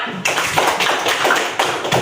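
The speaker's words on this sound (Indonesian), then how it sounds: "tepuk tangan buat temannya" Classroom applause for a student's answer: a short burst of brisk clapping from a group, dense and close, steady for about two seconds with no voices over it.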